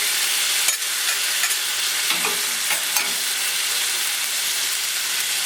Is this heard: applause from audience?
no